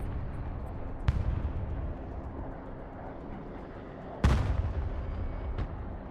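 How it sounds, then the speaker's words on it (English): Artillery and gunfire in the video game Broken Arrow: a sharp blast early on, then a heavier, booming explosion midway followed by a rumbling tail, with a faint later report, all without voices. "Engaging targets with direct fire"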